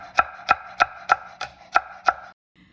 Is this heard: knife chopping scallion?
yes